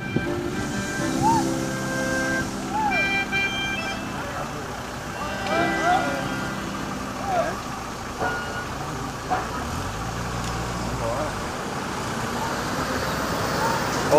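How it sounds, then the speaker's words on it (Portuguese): Trucks driving along a road in the Pantanal wetlands, a continuous rumble of passing traffic with engines swelling and fading, and people talking over it. "Tanto de caminhão, pessoal."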